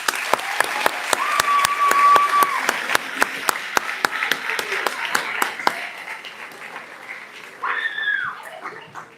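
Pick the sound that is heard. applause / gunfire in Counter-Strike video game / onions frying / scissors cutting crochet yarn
applause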